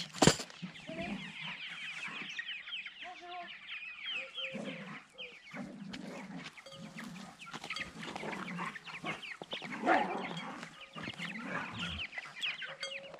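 Chicks and geese cheep and cluck continuously nearby, a busy chorus of farmyard fowl with scattered louder calls.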